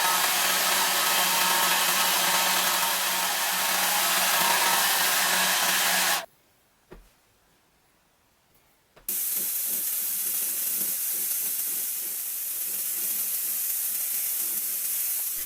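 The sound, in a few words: hair dryer blowing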